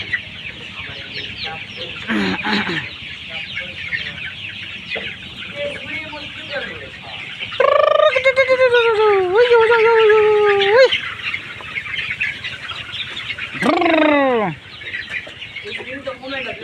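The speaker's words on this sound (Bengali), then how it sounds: "বন্ধুরা মুরগিগুলো কিন্তু সেই সুন্দর হয়েছে আজকে তো 39 দিন বয়স" Broiler chickens about 39 days old cluck steadily on a farm, with several louder drawn-out calls rising above the flock's constant murmur.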